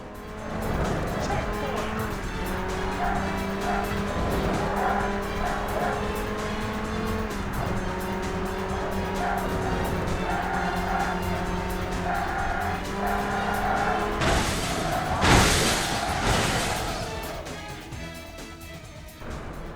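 Arcade street racing in Burnout on the original Xbox: engines drone and shift pitch continuously, tires squeal, and a burst of crashing noise hits near the end, with a voice talking over the action throughout.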